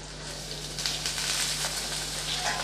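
Cucumber sautéing in a pan with shallots and curry leaves, a continuous close sizzle with soft stirring scrapes rising slightly partway through.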